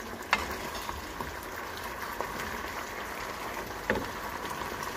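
A sweet and sour sauce with tilapia simmers in a pan, a soft, steady bubbling and sizzling hiss with a few faint clicks, heard close but quietly.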